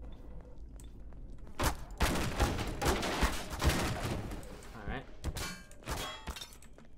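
Bursts of gunfire in the Garry's Mod video game come as loud, dense volleys of sharp cracks in several clusters, with a voice briefly audible among them.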